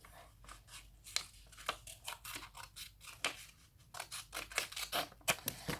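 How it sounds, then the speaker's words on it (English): Safety scissors cutting paper make a quick run of crisp, close snips, each cut a short rasping crunch repeated in an uneven rhythm with no talking. "So let's get these safety scissors. Let's cut the big parts."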